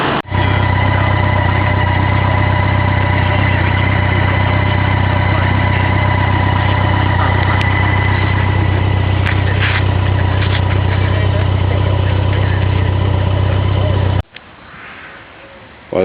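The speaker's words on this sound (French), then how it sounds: "c'est une BMW 1100, KLT 1100, avec un moteur à injection électrique" A 1996 BMW K1100 motorcycle with an electronic fuel-injected engine idles steadily and loudly up close, a constant low rumble that cuts off near the end.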